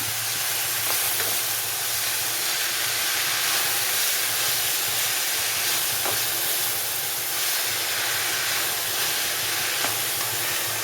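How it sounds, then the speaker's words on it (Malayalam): Steady hissing sizzle of ivy gourd (kovakka) frying with salt in a hot pan, with occasional sharp crackles and pops scattered throughout, close and fairly loud. "ആ പൊട്ടലൊന്ന് നിന്നു"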